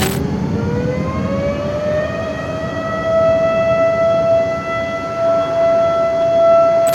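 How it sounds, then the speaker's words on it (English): A loud tornado warning siren wails steadily, its tone rising and holding in a long sustained howl, with nothing else heard. "When a tornado approaches a residential area, a warning siren is activated."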